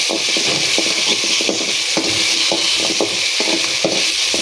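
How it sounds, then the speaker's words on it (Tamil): Food frying in oil in a pan before grated coconut is added, a dense, steady sizzle with repeated scraping stirs, close and loud throughout. "நல்லா எண்ணெயில் இது கொஞ்சம் அப்படியே ஃப்ரை பண்ணிக்கலாம்."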